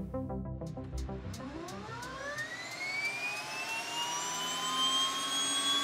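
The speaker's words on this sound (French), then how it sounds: "Dans l'après-midi du 4e jour, un avion survole le site du crash." An airplane flying over the Andes plane crash site, a steady jet engine roar whose whining pitch sweeps upward and then holds, loud and continuous, heard alone.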